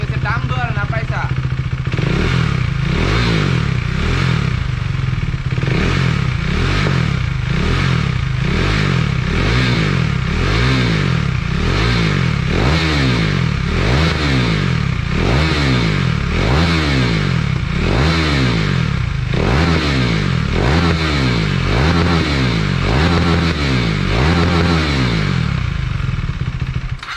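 A KTM Duke 390 motorcycle's new aftermarket exhaust revs over and over in a steady rhythm, each loud blip rising and falling, close to the microphone throughout.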